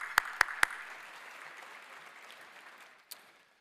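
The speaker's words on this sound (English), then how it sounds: "One more round of applause, please" A luncheon audience claps in a sustained round of applause that slowly fades out. A few sharp, close claps ring out at the start, and a single clap sounds near the end.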